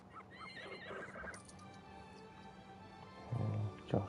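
A horse in The Sims 4 whinnies in two short bursts near the end, following quieter game ambience with faint hoof clip-clops earlier.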